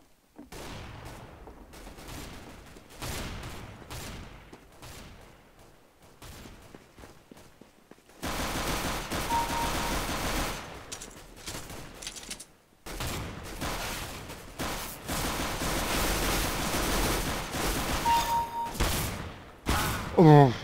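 Gunfire from Counter-Strike: Global Offensive played offline against bots, with sharp shots, rapid bursts and dense volleys, quieter spaced shots at first and then loud sustained firing, with brief voice sounds mixed in.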